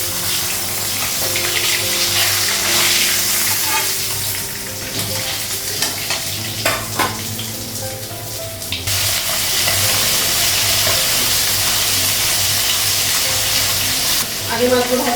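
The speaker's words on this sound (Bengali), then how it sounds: "আগে মাছগুলো ভাজা হয়ে গেছে" Fish pieces sizzle loudly in hot oil in a home kitchen pan, a dense steady frying hiss with bursts of crackling and a brief dip midway, no speech.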